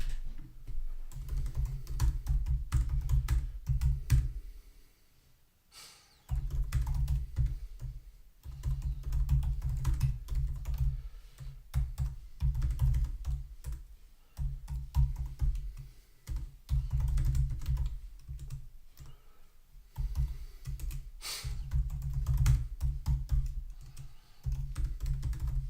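Typing on a computer keyboard in bursts of dense key clatter, with two brief pauses, close and fairly loud.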